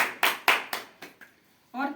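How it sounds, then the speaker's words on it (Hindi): A handful of sharp, separate hand claps ring out at a business celebration event, spaced about a quarter-second apart and fading, before a voice starts speaking. "जोरदार तालियां होनी चाहिए और दिल से होनी चाहिए"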